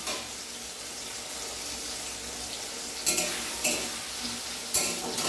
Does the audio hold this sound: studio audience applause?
no